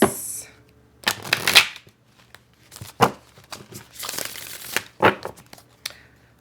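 A deck of cards is shuffled in close, crisp bursts of riffling and flicking, separated by short pauses.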